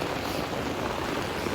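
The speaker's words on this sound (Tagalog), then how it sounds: "palakas na po yung ulan" Heavy rain pours steadily on a tent during a night camp on Mount Ulap, a dense, even hiss of drops with no pauses.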